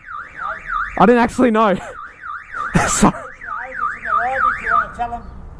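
A car alarm, set off by a Yamaha MT-07 motorcycle's exhaust, whoops in a steady rising-and-falling cycle throughout, with a voice speaking briefly over it.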